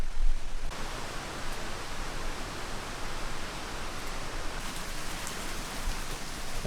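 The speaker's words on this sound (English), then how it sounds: "And it's starting to rain." Steady rain falls on the Appalachian Trail near a brook lean-to in the 100 Mile Wilderness, a dense continuous patter of drops on surfaces that holds an even level throughout, close and enveloping with no voices.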